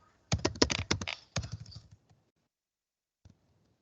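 A close burst of quick keystrokes on a computer keyboard, clattering for about a second and a half. A single click follows after a pause, with no talking.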